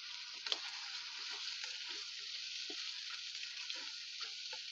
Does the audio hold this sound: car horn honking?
no